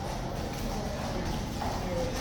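King's Guard troop horses clip-clop through a tunnel, their hooves a steady, soft, echoing patter beneath a dense wash of background noise.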